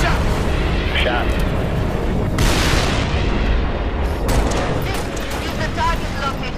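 An artillery barrage in the video game Halo Reach on Legendary difficulty: heavy booms and rolling explosions pound continuously, loud and dense, with soldiers' radio chatter over the battle noise.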